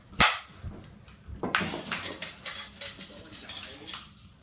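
An airsoft gun fires: one sharp crack right at the start, then a few lighter clicks and a second snap, followed by a run of rapid clattering ticks, close by with faint background noise.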